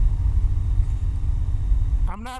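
Lifan KP Mini, a Grom-clone small motorcycle, cruising with a steady low engine drone and rumble, then a quick rising rev near the end as it shifts down.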